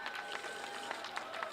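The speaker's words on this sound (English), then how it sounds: "Can we have a round of applause for Dave and Jane Hummel?" A round of applause at an outdoor mayor's press conference, a soft, steady patter of clapping from a modest crowd heard at a distance, faint and even throughout with no talking.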